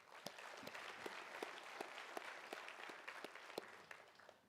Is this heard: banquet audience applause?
yes